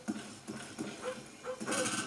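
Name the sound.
attack dogs barking in video game Call of Duty Black Ops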